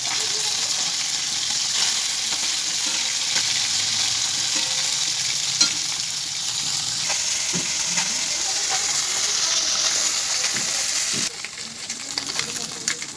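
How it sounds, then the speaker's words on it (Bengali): Fish frying in hot oil in a wok: a loud, continuous close-up sizzle and hiss with scattered small pops and spatters, briefly shifting in tone near the end, no speech. "এখানে কড়াই বসিয়ে দিয়েছি, তেল গরম হয়ে গেছে। আমি এবার দিয়ে দেবো মাছগুলো।"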